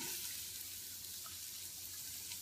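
Diced onion sizzling in a Louisiana-style gumbo roux, a soft, steady frying hiss with light stirring, fairly quiet and close, no talking.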